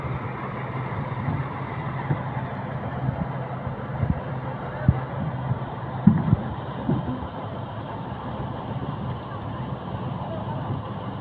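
A river dredging machine's engine runs in a steady, low rumbling drone while it hauls a pipe up onto a steel boat on a haor waterway, with occasional knocks and bumps and faint wind noise.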